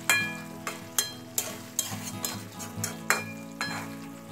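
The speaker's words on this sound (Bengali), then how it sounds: "একটু নেড়ে দিচ্ছি।" Cooked cauliflower and radish stem curry stirred in a pan, about nine distinct spatula scrapes and clinks against the metal at an even pace over a low sizzle, close up with no talk.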